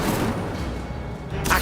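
Incendio fire spell cast in Hogwarts Legacy, a dense, continuous rumbling burst of game effects that holds steady, then flares with a brighter crackle near the end.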